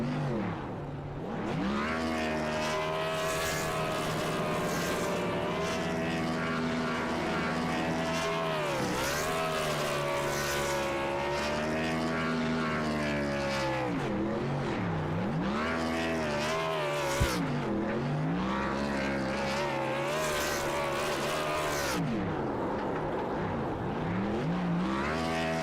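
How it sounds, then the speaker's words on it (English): A race car in a NASCAR-style racing video game at Texas, the No. 8 machine, revs hard doing burnouts on the front straightaway, a loud sustained engine roar with rising and falling pitch sweeps throughout. "continue to use some burnouts here on that 8 machine"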